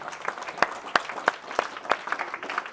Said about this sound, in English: can I get a round of applause for yourselves just for showing up?